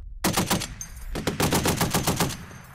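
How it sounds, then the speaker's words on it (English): An M2 .50 caliber machine gun firing in bursts during weapons training, loud rapid-fire reports in two strings separated by a short pause. "M2 50 cal machine gun."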